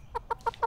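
A chicken clucks in a children's animal-sounds game, four short evenly spaced clucks in quick succession, fairly close and clear with no talking.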